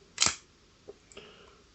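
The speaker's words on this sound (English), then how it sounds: "So there's the shutter." A Russian film camera's shutter fires once with a sharp, close mechanical snap, followed by a few faint clicks and rattles of the mechanism in an otherwise quiet room.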